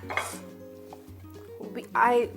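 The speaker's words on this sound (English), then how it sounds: "now I'm going to mash them together. So let's do the mashing and mixing" Rinsed canned beans mashed and mixed in a bowl, giving soft irregular clinks and scrapes of utensil against dish, heard under a talking voice.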